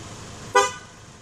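A car horn gives a single short honk midway, loud and close, over a quiet idling background.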